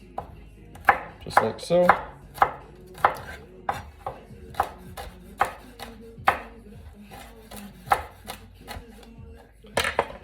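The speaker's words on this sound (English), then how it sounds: "So back to the garlic cloves here. Basically what I'm going to do is just slice them." A knife slicing garlic cloves on a cutting board for a Portuguese roast, a run of crisp, close chopping taps at an uneven steady pace, with a brief spoken line partway through.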